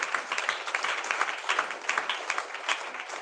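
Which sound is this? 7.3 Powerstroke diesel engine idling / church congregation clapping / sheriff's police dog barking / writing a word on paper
church congregation clapping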